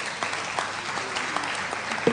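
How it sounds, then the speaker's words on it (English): Steady applause from a crowd, a dense patter of many hands clapping at moderate volume throughout. "Can we give her a round of applause?"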